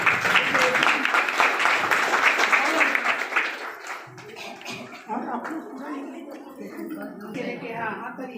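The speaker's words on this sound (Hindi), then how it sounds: "ताली बजाइए। संयुक्त रूप से मैडम को स्वागत करें।" An audience at a women's organisation's district convention claps loudly to welcome the chief guest; the dense applause fades after a few seconds into scattered claps, murmurs and voices.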